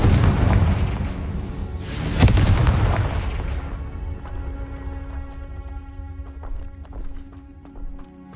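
A Confringo fire spell blasting in the Hogwarts Legacy video game gives a loud, close booming burst that rolls off into a fading rumble, with game music and effects continuing beneath.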